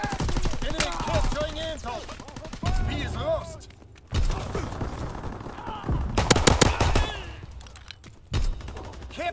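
Call of Duty WWII gunfire, busy rapid automatic bursts and single shots in chaotic close combat, with a few brief pauses and a burst of clattering fire near the end, voices heard among the shots.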